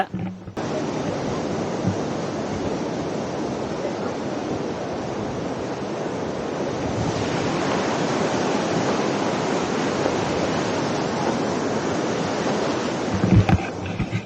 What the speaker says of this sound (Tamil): தண்ணி பார்த்தீங்கன்னா நல்லா நிறையாவே விழுகுது.